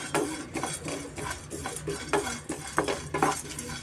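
Seeds being dry roasted in a pan without oil on a medium flame for a seed laddu, with steady scraping and stirring of a utensil against the pan and faint crackle, close up and without speech.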